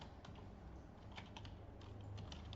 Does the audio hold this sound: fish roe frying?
no